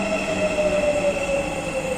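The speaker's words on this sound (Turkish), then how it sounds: "Ben şimdi tren geldi bakın." Train pulling into a station, a steady rail rumble with a sustained tonal whine from the wheels or motors, fairly loud and continuous with no talking.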